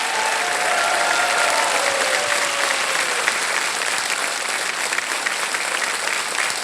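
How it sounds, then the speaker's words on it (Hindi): A studio audience at a televised Hindi quiz show breaks into steady, dense applause to welcome a rollover contestant, the clapping continuous and even at moderate loudness throughout with no speech over it. "मैं चाहता हूं एक बार फिर तालियों के साथ इनका स्वागत करें"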